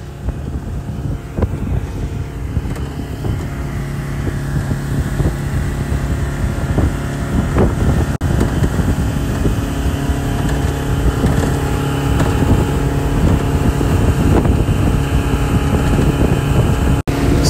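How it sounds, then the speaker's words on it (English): Strong, steady wind buffets the microphone on an open, flat salt marsh, a loud continuous low roar with gusty swells that runs without a break throughout. "it's quite breezy"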